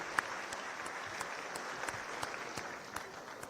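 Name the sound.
audience applause for children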